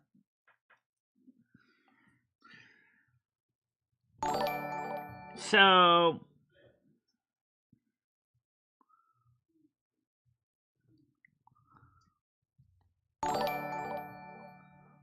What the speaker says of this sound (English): We're going to be listening to that chime for a while.